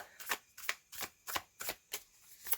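A deck of tarot cards is shuffled by hand in a steady rhythm of about seven crisp riffling bursts, close and moderately loud, with no speech.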